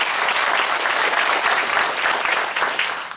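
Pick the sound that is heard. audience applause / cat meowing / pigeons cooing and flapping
audience applause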